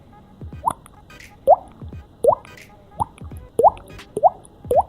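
A voice imitates water drops by beatboxing, the tongue pushing while fingers tap the cheek, producing about eight clear, hollow plinks at a steady, slightly uneven rhythm, close and distinct against near silence.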